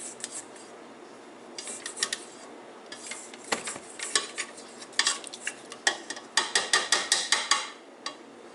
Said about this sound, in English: it's always a good idea to lower the bowl and scrape down the sides to make sure all of your ingredients are mixed in